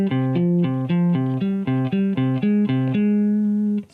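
Metal guitar riff with a heavy, sustained tone, played as an interval of a minor sixth: a steady chugging pattern of alternating low notes for about three seconds, ending on one held note that rings out alone.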